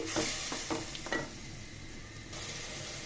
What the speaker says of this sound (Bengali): দিয়ে সুন্দর করে আমি নেড়ে চেড়ে দিচ্ছি।